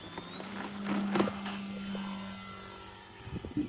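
An RC model jet flies past at an airfield runway, its steady whining turbine drone holding throughout, rising to a louder swell mid-pass before fading slightly, with no talk over it.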